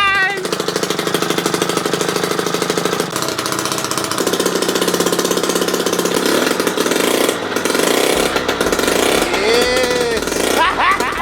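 A running motorized bicycle engine with a two-stroke exhaust gives off a loud, rapid, continuous buzzing chatter, close and steady for the whole stretch, with people speaking over it at times.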